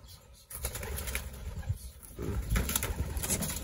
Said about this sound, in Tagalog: Yun, naglipada na mga kalapatids.